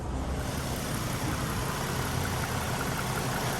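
A 2015 Ford Mustang V6 fitted with BBK headers idles steadily and close by, a smooth continuous engine rumble with no voices.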